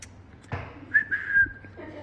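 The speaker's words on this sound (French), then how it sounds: "j'arrive pas à siffler, attends." A person tries to whistle, producing a thin, wavering tone that sputters in and out between breathy attempts, preceded by a soft knock, close and fairly faint.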